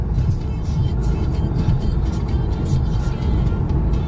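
Cars drive along a road at around 110–120 km/h, heard as a steady, loud engine and tyre drone from inside a moving vehicle.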